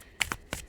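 A few brief crisp card-shuffling riffles from a tarot deck, three quick bursts in under a second, faint and close with no talk.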